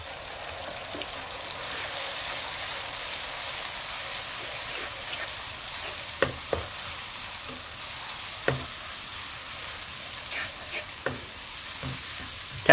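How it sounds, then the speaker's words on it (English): Spice mixture with black pepper, red chili powder and capsicum powder sizzling steadily in a pan, with a soft continuous fry and occasional sharp clicks of a spoon stirring against the pan. "So we will fry this mixture for at least 5 minutes until it become very soft."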